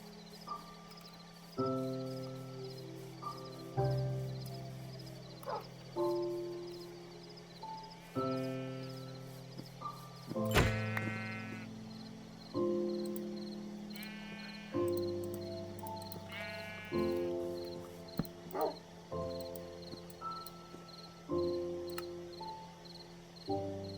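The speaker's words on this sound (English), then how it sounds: "There's a sheep over here." Sheep bleats from the video game Minecraft, several short wavering calls spread across a loud stretch of game music with bright chime-like notes and an insect-like chirping bed.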